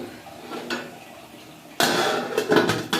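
A metal cooking pot of curry is lifted off a stove, with quiet clatter at first, then a loud burst of clanking and scraping metal as the pot shifts and is set down.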